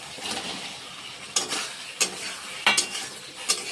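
Potatoes sauté in spiced oil with a soft, continuous sizzle, broken by several sharp scraping stirs of a spoon against the pot at uneven intervals, close and moderately loud.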